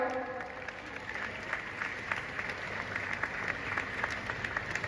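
An audience at the NPC Mr Kerala bodybuilding competition 2023 claps for a kids' category entrant, a sustained patter of applause from a crowd, moderately distant, with an announcer's voice over it.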